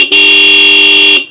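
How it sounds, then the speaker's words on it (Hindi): A HELLA D70 horn fitted to a Suzuki V-Strom SX 250 touring motorcycle gives one loud, sustained blast, close and alone, lasting just over a second. "ज़बरदस्त अल्टीमेट साउंड वाले आपको मिलते हैं इसके अंदर हॉर्न।"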